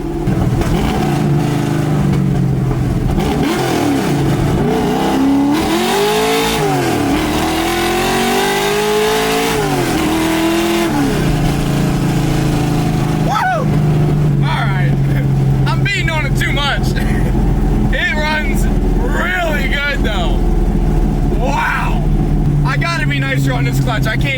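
A 1965 Ford Mustang engine revs hard in second gear from inside the car, a loud, continuous roar that climbs and falls in pitch, with excited talk over it.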